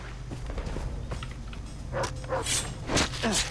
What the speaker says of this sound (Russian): А собаки бешеные, что ли?